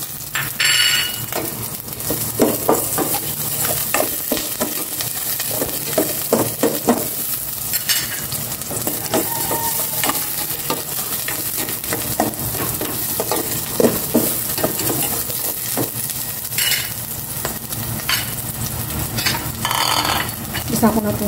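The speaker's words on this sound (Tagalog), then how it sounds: "Igisa ko na itong bawang." Garlic sautéing in a pan for chopsuey, a steady close sizzle broken by frequent scraping and stirring clatter of a utensil against the pan, with a few sharper metallic clinks.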